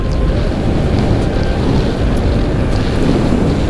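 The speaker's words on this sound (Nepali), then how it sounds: "एकदम हावा चलिरहेको अवस्था।" Strong wind on a highway during a motorcycle ride roars loudly and continuously, a close, heavy buffeting rumble that never lets up, with no talk.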